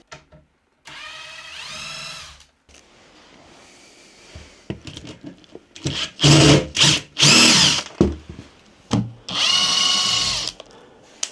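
Power drill backing screws out of an MDF table saw base, several short whirring bursts of varying length with pauses between, close and fairly loud, no talking.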